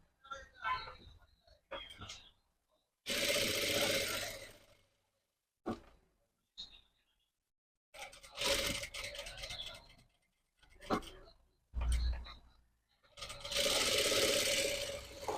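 A sewing machine stitches blouse band pieces in several loud, steady bursts of a few seconds each, separated by pauses with quiet handling noises.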